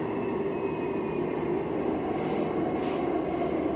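A very heavy freight train stalls and strains on its rails, a loud continuous rumble with high, sustained wheel squeal running over it throughout, no voices.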